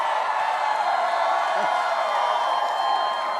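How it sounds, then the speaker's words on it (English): A big crowd at a Donald Trump rally in Selma, North Carolina keeps up a continuous, dense roar of cheering and whooping, heard from a distance and filling the space evenly throughout. "Boy, this is a big crowd"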